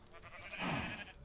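An explosive sheep in the Farm Hunt video game lets out a single wavering bleat, rising to a fuller cry midway before trailing off, fairly faint and heard on its own.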